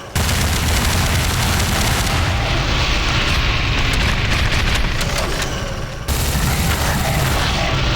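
Grenade explosions from a weapon in the video game Garry's Mod form a dense, loud, continuous barrage of booms and rumbling blasts that carries on without a break.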